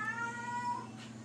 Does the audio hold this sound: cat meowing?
yes